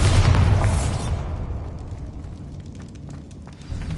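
A Bombarda spell explosion in the Hogwarts Legacy video game: a loud, broad boom at the start that rumbles and decays into crackling debris and scattered small pops, with a fresh thump near the end.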